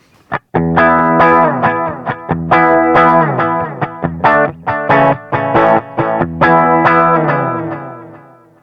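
Distorted electric guitar chugs through a riff with a micro Donner digital delay pedal, loud rhythmic chord hits repeating in tight bursts with echo trailing between them.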